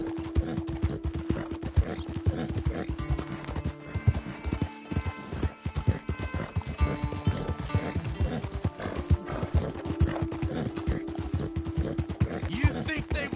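Steady clip-clop of horse hooves at a walking rhythm in Red Dead Redemption 2, close and continuous, with a horse's whinny rising partway through and faint background ambience.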